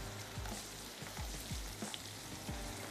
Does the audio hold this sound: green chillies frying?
yes